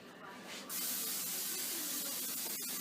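Pam cooking spray greasing a pan for cookie dough, a steady broadband hiss that starts after a brief quieter moment and runs continuously to the end, close and fairly loud.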